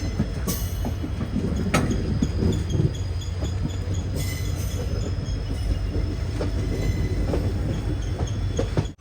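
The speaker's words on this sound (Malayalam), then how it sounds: "ട്രെയിൻ ഇപ്പോൾ അടുത്തൊരു റെയിൽവേ സ്റ്റേഷനിൽ എത്തിയിരിക്കുകയാണ്" A train bound for Ervadi rumbles steadily along the rails in South India, with a constant low roar and occasional sharp metallic squeals and clicks throughout, no voices.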